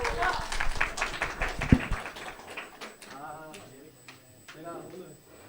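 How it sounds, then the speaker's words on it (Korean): A church youth worship group claps in a brief, fairly close burst that fades within about two seconds, then a voice starts talking. "박수!"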